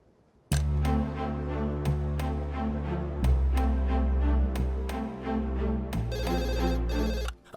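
A phone rings loudly with a repeating musical ringtone, its pattern cycling several times before cutting off.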